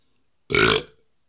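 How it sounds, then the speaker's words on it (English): A single loud, close burp after drinking Lagunitas IPA beer, lasting about half a second and standing alone in otherwise silent surroundings. "If I burp, it means it's a sign of a good beer."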